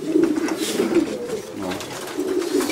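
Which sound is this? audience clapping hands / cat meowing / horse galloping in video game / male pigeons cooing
male pigeons cooing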